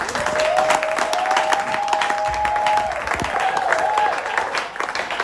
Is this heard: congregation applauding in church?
yes